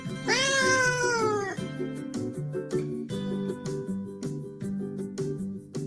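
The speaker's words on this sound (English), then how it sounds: "The cat is under the swing." A cat lets out one long, drawn-out meow, then a series of shorter rhythmic meows, close and steady.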